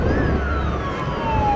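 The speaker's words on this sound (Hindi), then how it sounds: "एम्बुलेंस जाम में फंस गई है।" A loud, continuous wailing ambulance siren sweeps slowly downward as the vehicle sits stuck in a traffic jam at a farmers' protest site on the Ghazipur border, over heavy road and crowd noise.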